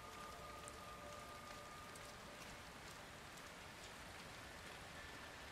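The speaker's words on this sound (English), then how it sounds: "It is also raining, so there are a lot of puddles around." Steady rain falls in the video game Hitman 3, a constant close hiss of drops spattering on puddled ground with no pauses and no voices.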